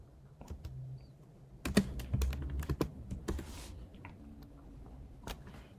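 Computer keyboard typing, a scattering of sharp clicks with a quick burst of keystrokes in the middle, close and fairly quiet, no voice.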